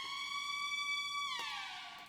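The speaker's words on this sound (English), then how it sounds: "I used this little siren." A short siren sample used in a dark West Coast FL Studio beat, shortened and pitched up: a loud, steady electronic wail holding one bright tone, then bending downward in its final half-second.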